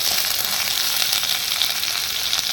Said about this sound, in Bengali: পেঁয়াজটাকে এবার একটু ভেজে নেব।